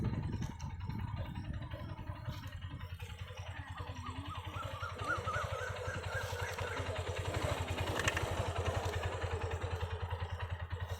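Motorcycle ridden by a learner, a faint, steady engine putter close by with some rattling clatter and brief voices in the background.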